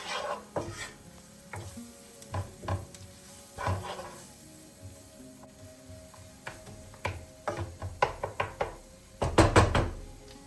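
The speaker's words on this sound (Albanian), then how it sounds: "do t'i hedhim një lugë miell. Do vazhdojmë ta përzijmë për 1 deri në 2 minuta." Fried onion and a spoonful of flour are stirred in a hot pan, the spoon scraping and knocking against the sides in uneven bursts over a light sizzle, growing busier toward the end with no talking.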